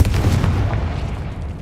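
Confringo fire spell from the game Hogwarts Legacy: a single loud, close blast with a deep boom that rolls off over about a second.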